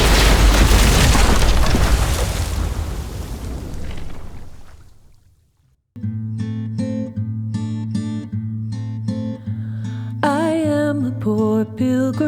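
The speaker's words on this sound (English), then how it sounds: "Shit, the bomb!" A loud, roaring bomb explosion in The Walking Dead video game, a booming blast that rumbles and slowly fades into silence, followed by soft piano and vocal music.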